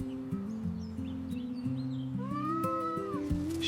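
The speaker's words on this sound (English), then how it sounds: "Our new cat is stuck." A kitten stuck in a tree meows in a few rising, plaintive cries over a gentle, steady musical background, with light bird chirps around it and no talk.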